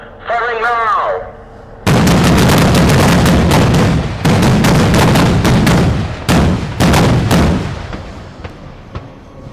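Weapons fire at targets during a live-fire military training exercise, a loud, close sequence of sharp blasts and bursts in rapid runs with brief pauses, after a short radio voice at the start.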